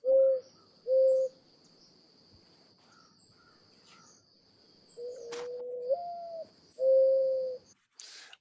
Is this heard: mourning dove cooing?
yes